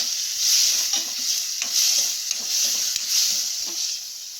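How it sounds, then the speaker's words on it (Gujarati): Tomatoes and peanuts stirred into frying sabudana khichdi with potatoes, a loud bright sizzle swelling and easing as a spoon scrapes the pan in a steady rhythm, no voices. "હવે આપણે ટમેટા નાખી દેવાના છે અને સિંગદાણા।"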